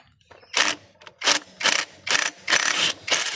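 Loosening a bolt with a 22mm wrench while repairing a smoky X4 motorcycle: a series of about five loud, close ratcheting bursts, each roughly a third of a second, separated by short pauses, with no talk.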